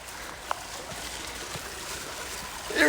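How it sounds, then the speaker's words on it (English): Water flows and trickles steadily along a channel in Osaka, a constant close wash with a few faint knocks and a brighter burst near the end. "we'll see the water flowing"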